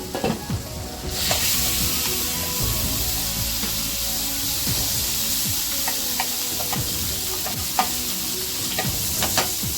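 Minced mutton keema sizzles in butter in a pan, a loud steady hiss close up, with frequent scrapes and clacks of stirring throughout.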